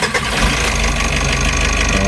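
A car engine with a check-engine fault tied to the EGR, after a fuel filter replacement, cranks and catches, then settles into a loud, steady, close idle with a rough rumble.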